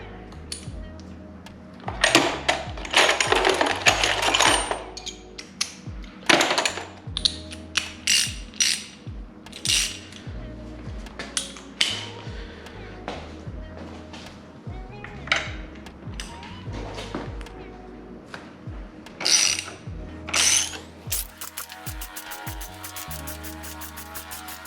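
A ratchet with an extension installs Puig Pro frame sliders on a 2022 Kawasaki Z900. Close bursts of rapid clicking come repeatedly over the whole stretch, broken by pauses and small handling noises, with no talking.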